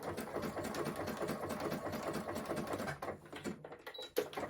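A home sewing machine stitching a neckband onto a T-shirt, a fast steady mechanical chatter close by that runs continuously and then stops near the end.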